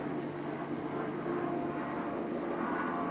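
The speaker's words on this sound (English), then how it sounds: "it's the fucking neighbour with his fucking helicopter" A neighbour's helicopter drones overhead, a steady continuous rotor and engine hum with a faint buzzing texture, holding at a constant level throughout with no talking.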